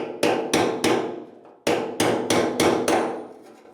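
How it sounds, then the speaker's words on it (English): Seven sharp metallic hammer blows on a brass punch strike a fuel pump lock ring on a 1992-1996 Ford F-150 tank, ringing briefly after each, in two groups of three then four, close up with no talking. "with a brass punch and a hammer, I'm going to take the fuel pump retainer ring off"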